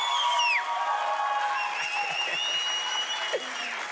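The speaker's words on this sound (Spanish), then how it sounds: "Un aplauso." Studio audience of a Colombian TV variety show claps and cheers, a moderate wash of applause with whoops and whistles on top, fairly steady through the short stretch.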